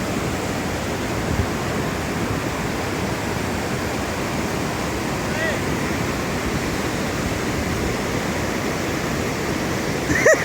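Floodwater of a roughly 300-metre-wide river rushing beneath a dangerous bridge in Azad Kashmir during heavy rain: a steady, loud, close roar of churning water that continues unbroken throughout.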